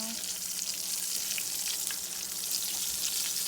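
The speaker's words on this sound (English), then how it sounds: "And just lay them in there like that, and they'll fry up nice and brown." Eggplant slices fry in hot oil, giving a steady, dense sizzle that holds evenly throughout, with faint crackles and pops near the pan and no talking.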